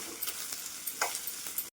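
Chili powder, salt and coriander powder are stirred into a taro and tamarind curry in a pan, giving faint, soft scraping strokes over a low sizzle, with no talking.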